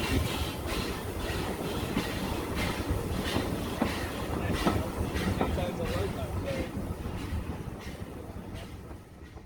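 The Adams O2 steam locomotive Calbourne runs along a preserved heritage railway, with a steady loud rumble and rhythmic clickety-clack of wheels on rail joints and occasional squeals through the whole stretch.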